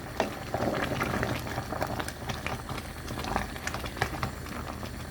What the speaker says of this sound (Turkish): Orta derecede yaklaşık 45 dakika kadar bu şekilde reçeli kaynatıyoruz